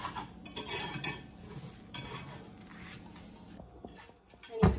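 Scrambled eggs being scraped loose from a hot pan with a utensil: scattered metallic scrapes and clinks over a faint sizzle, with a louder knock against the pan at the end.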